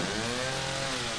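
Chainsaw engine running steadily in the horror video game Psycho Break, a continuous buzzing roar heard alone for a moment.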